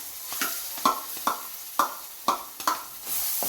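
A paste is stirred into golden tempering for a bottle gourd and mango dish, giving a soft sizzle under about six sharp, evenly spaced scraping stirs close by, with no voices.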